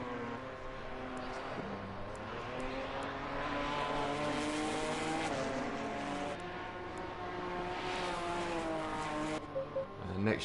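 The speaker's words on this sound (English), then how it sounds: "Absolutely love the sound of that V8 Italian" A Ferrari V8 race car in a racing game at Laguna Seca, its engine droning steadily with rising and falling revs, moderately loud and continuous throughout, with other cars faintly present.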